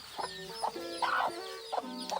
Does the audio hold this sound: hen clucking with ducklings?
yes